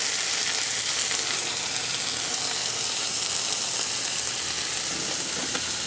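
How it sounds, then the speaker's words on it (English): Ham warming in a pan for a butter-toasted ham, egg and cheese sandwich sizzles with a steady, dense frying hiss that holds even and close throughout, with no talking. "Get my ham warmed up."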